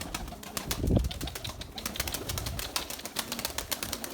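Trained pigeons flapping their wings in a loft, a burst of close wingbeats followed by repeated fluttering and soft clatter, with faint cooing mixed in, fairly quiet overall.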